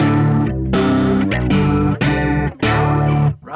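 Electric guitar played through a flanger pedal, a series of sustained chords and notes with a sweeping, swirling shimmer, each strummed phrase ringing out clearly before the next.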